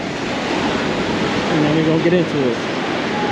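Surf rolling onto Praia do Vidigal beach in Rio de Janeiro, a steady broadband wash of waves with wind, heard under someone talking close to the microphone as he walks the sand.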